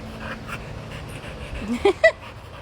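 A dog pants close by in quick, soft, rhythmic breaths, broken near the end by a few short whiny tones.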